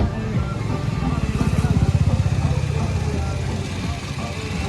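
A Toyota engine idling with a rhythmic thumping vibration from a broken engine mount, steady and close, while someone talks over it.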